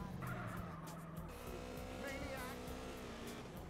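A motorcycle engine in GTA San Andreas Definitive Edition revs steadily and loudly throughout, its pitch climbing midway, with a gritty tire-skid texture running underneath.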